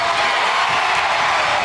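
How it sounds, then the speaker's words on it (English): Crowd cheering at a first responders' charity game, a steady wash of cheers and shouts filling a brief moment, loud and unbroken. "couldn't compare to the support and cheers they got from the crowd"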